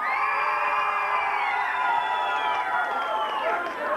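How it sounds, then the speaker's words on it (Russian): A beauty pageant audience cheers and applauds for a contestant, with loud, sustained crowd noise, whoops and shouts filling the whole stretch and fading slightly at the end. "Аплодисменты участницы под номером 3."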